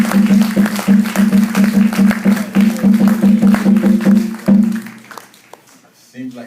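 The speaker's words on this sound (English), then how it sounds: "Let's have another round of applause" A crowd at a celebration of African survival gives loud, steady applause for several seconds, with a sustained vocal tone running through it, before it dies away near the end.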